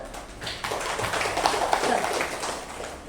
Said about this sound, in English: Now we'll give the special clap for sir.